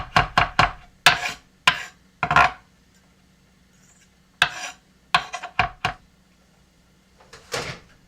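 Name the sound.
garlic being chopped in a spinning chopper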